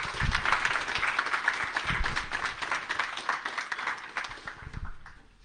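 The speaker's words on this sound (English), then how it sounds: "Can we get a round of applause for that?" An audience at a panel discussion claps together in a sustained round of applause, dense and close, fading out near the end.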